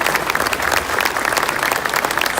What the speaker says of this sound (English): how about a round of applause for all of our educators and students here